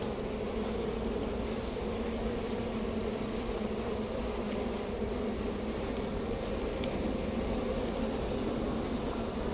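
Bees buzz steadily around a beetle trap being set in a garden hive, a continuous near drone holding at an even level with no talk.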